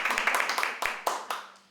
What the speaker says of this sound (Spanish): la profesora licenciada Mercedes Eman, a quien le damos un aplauso, ¿no?